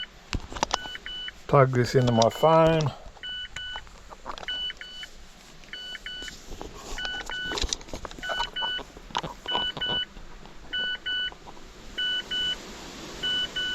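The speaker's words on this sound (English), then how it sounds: "So home screen, keys on, which is why it's beeping" A steady series of short electronic key-in warning beeps repeats at regular intervals in a Mazda 6, with a person talking over them and occasional clicks.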